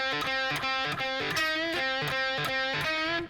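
Overdriven electric guitar playing a solo with pull-offs left unmuted, notes ringing into each other in a quick repeated melodic figure, moderately quiet, with no voices.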